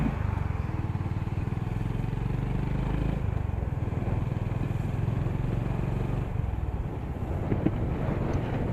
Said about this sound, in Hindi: पहले तो स्टार्ट कर लेते हैं बाइक को